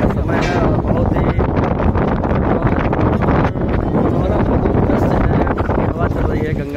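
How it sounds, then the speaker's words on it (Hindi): Wind blows steadily across the Ganges riverbank at Bhairav Ghat in Kanpur in late morning, a loud, continuous rushing that buffets the microphone throughout with no break. "हवा चल रही है।"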